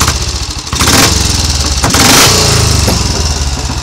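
A Royal Enfield 350 cafe racer single-cylinder motorcycle revs up close and loud, its lumpy thudding exhaust pulsing as the throttle opens twice in quick succession before settling back.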